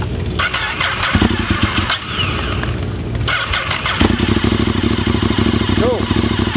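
A motorcycle engine cranks, catches and settles into a rough, uneven running rhythm with clattering bursts, heard up close while people talk nearby.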